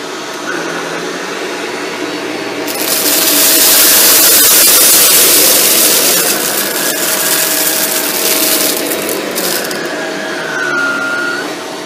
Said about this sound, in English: see how well the machine cleans up tight against the baseboards